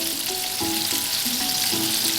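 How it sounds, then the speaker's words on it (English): Chicken drumsticks fry in hot oil, a steady close sizzle and crackle with faint tonal ringing over it, no voices. "allow the drumsticks to slowly fry into a golden brown colour"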